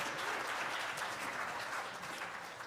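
Audience applause at a talent show, a steady dense wash of clapping that holds throughout and tapers slightly toward the end, with no voices over it.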